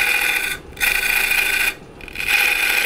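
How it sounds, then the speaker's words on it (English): Easy Wood point tool cutting a tenon on a spinning wood lathe, a steady close scraping hiss that breaks off twice as the tool lifts away and then resumes. "I'm using my easy wood point tool to make that tenon shape."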